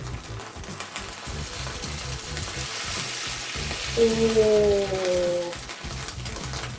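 Egg frying in a pan for Korean vegetarian kimbab, a steady close sizzle throughout, with a brief exclamation from a voice partway through.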